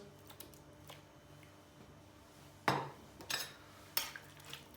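Grated tomato being stirred into a dish with a spoon in a home kitchen, a few scraping clinks of utensil against the pot, soft and intermittent over a quiet background.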